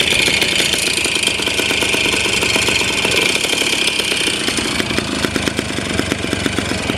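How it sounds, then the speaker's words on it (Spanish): A Derbi Variant moped engine idles loudly and steadily up close, its rough mid-pitched putter made noisier by an oversized carburetor run without an air filter. "Lo que está haciendo ruido más que nada es ese carburador"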